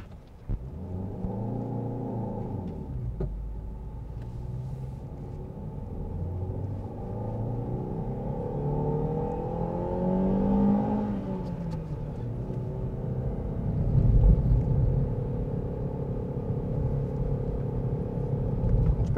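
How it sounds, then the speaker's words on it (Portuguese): A Chevrolet Cobalt accelerates up a hill, its engine note rising through the revs with a low rumbling drone heard from inside the cabin, easing at a shift and then climbing again. "Vamos fazer um teste de aceleração aqui na subida."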